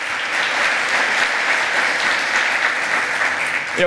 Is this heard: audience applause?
yes